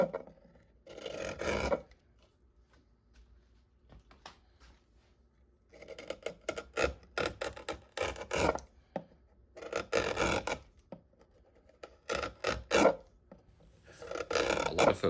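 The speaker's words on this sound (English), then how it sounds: "boy, does this spruce speak when it's being carved." Carving tool shaving a spruce violin top across the grain, with bursts of dry raspy scraping in rhythmic strokes, close and fairly quiet, separated by short pauses.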